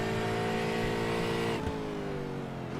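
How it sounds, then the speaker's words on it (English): A 4-litre V8 Aston Martin GT4 roars loudly at Imola in a sim racing game, holding a sustained high engine note before a quick gear change drops the pitch and it builds again. "This 4-litre V8 engine roaring its way down to Rivazza."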